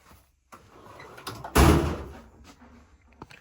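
A tool-chest drawer holding chisels and punches slides shut with a single loud, close metallic thud, preceded by soft rattling and shuffling and followed by a few faint clicks.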